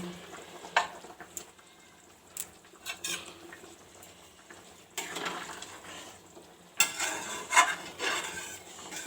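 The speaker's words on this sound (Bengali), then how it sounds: "এবার তরকারিটা ফুটে উঠেছে এবার আমি পনিরগুলো এক এক করে দিয়ে দিচ্ছি" Paneer curry with potato, cauliflower and makhana simmering in a pan, a faint soft sizzle and bubbling broken by a few louder clinks and stirring scrapes, with no talking.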